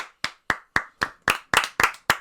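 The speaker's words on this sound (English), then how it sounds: "I'm trying to clap away from the mics." One person claps their hands away from the microphones during a podcast recording, giving eight or nine sharp, evenly spaced claps in a steady rhythm, each crisp and isolated with short silences between them.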